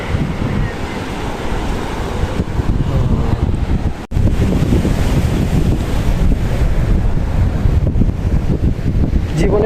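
Sea waves at Shah Porir Dwip, Teknaf, on Bangladesh's southern edge, wash in as a continuous broadband roar, with heavy wind buffeting the microphone and a brief dip partway through.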